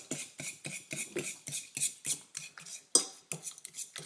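A metal fork whisks fresh yeast into warm milk in a bowl, making a quick, even series of close scraping clinks, roughly two strokes per second.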